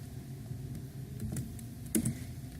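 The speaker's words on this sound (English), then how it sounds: "the first thing that we want to do is type in else." Soft, close keystrokes on a computer keyboard while Python code is typed, a quiet irregular patter with a couple of sharper clicks near the end, no voices.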